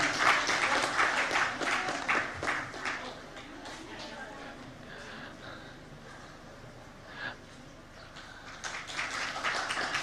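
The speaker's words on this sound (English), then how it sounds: "Please, a round of applause for our keynote speaker, Dr. Banking Ju." Audience applause for the keynote speaker at the Sagarmatha Sambaad 2025 opening ceremony, clapping loudest at the start and end, with voices mixed into the crowd noise throughout.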